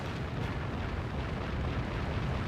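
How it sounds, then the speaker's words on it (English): Distant enemy warship gunfire in the naval combat game Warship Gunner 2 makes a dense, continuous rumble of booms and blasts, steady and loud throughout. "Someone way the hell over there is shooting at me already."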